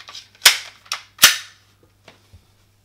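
Several sharp NPA service pistol shots ring out in quick succession at a shooting range, loud and close, each trailing a short decay, followed by a few fainter distant pops.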